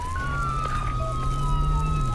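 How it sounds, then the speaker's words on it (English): Police car siren in the Flashing Lights police game during a highway patrol pursuit, a continuous wailing tone sweeping slowly over loud engine and road rumble. "We might have to use our other siren, aka the built-in radio siren"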